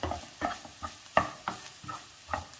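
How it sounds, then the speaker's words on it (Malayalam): Grated coconut roasts with onion in a pan over a medium flame, stirred until golden for erissery. Rhythmic close scraping strokes come about twice a second over a soft background sizzle. "ഇനി ഈ തേങ്ങ ഒന്ന് ചുവക്ക വറുത്തെടുക്കണം"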